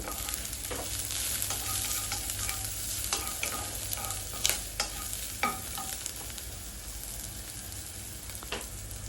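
Split green chilies frying in oil for a bitter gourd coconut curry, a steady close sizzle with a few sharp spatula scrapes and clicks against the pan.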